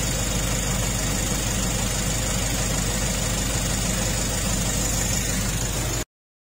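Engine of a 2020 Nissan Navara EL idling during an oil change. It holds a steady, even rumble close to the listener for about six seconds and then cuts off abruptly into silence.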